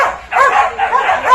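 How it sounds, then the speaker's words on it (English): A dog barks and yips close by in quick repeated bursts, loud and rhythmic, with a brief pause before the barking resumes. "Them dogs there you know."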